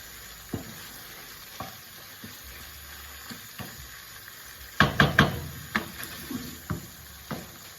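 Pork and fennel browning in a pan: a low, steady sizzle broken by a series of scraping stirs, with a louder cluster of clattering strokes in the middle, and no talking.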